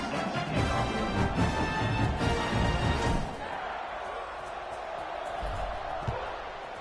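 A stadium crowd in an NCAA college football video game roars loudly and steadily, then drops to a lower sustained murmur with scattered noise.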